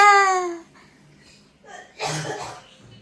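Someone down with a fever coughs once, short and close, after a brief tonal vocal sound at the start. It is followed by a quiet pause.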